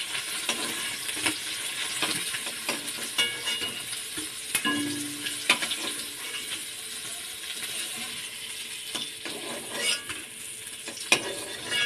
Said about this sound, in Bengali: দাঁড়াও, এই মাছটা বেশি ভাজবো না, করা হালকা করেই ভাজবো।